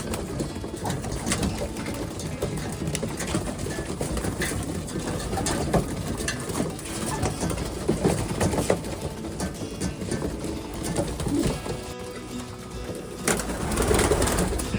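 OLR stock racing pigeons in their loft at feeding time: soft, repeated cooing from several birds, with wingbeats, shuffling and scattered rustles throughout, fairly close and continuous.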